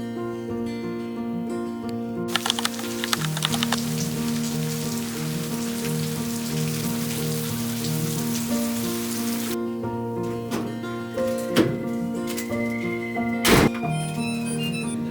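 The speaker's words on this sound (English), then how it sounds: "it's currently raining a lot" Heavy rain falls outside on a Wednesday evening, heard from indoors as a steady, soft hiss, with occasional nearby drips and thunks standing out over the constant wash.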